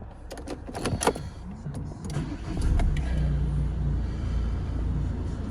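A van engine cranks over and catches, settling into a steady idling rumble after a couple of clicks and a starter whir, close and fairly loud with no talking.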